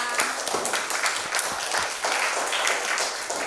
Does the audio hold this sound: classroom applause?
yes